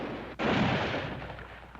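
A single loud gunshot booms in a western shootout, a sudden sharp blast followed by a rolling echo that fades over the next second and a half.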